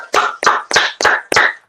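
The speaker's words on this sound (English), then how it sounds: "Let's clap him up, y'all." Five sharp, evenly spaced hand claps ring out close and clear in a steady rhythm, each followed by a brief decay, with no talking, as a show guest is welcomed.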